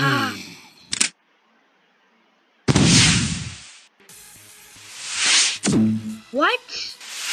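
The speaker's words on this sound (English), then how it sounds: "Rocket launcher!" Rocket launcher fired in the Henry Stickmin game: a loud, sharp blast that cuts off abruptly, followed by a roaring explosive rush with crackling debris, then further bursts under a speaking voice.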